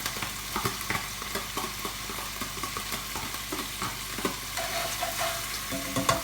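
Onions frying in a pan with pork shoulder juices, a quiet broad sizzle with light irregular stirring taps and pops, heard alone without talk.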